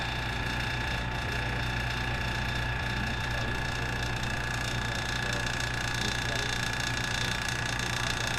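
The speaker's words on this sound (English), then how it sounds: "So that vacuum chamber takes all the bubbles out, because you don't want bubbles inside of your baits" A vacuum chamber hums with a loud, constant mechanical drone while degassing liquid soft plastic for swimbait skin pours, steady and unbroken throughout.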